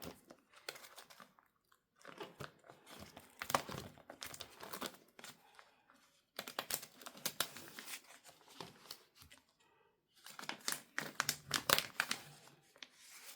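Pages of a sticker binder turned and handled, giving soft rustles and plastic crinkles in three longer stretches split by short pauses, close and fairly quiet with no talk.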